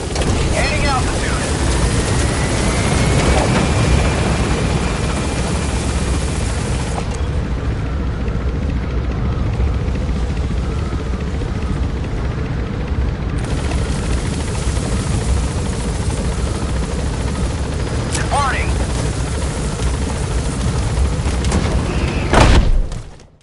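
An extraction helicopter in the video game Metal Gear Solid V gives a loud, continuous rotor and engine roar that holds steady while gaining altitude, with faint whooshing swells near the end.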